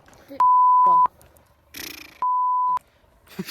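Two identical censor beeps, each a steady pure tone lasting about two-thirds of a second, cover speech. Brief bits of talk and background noise fall between and around them.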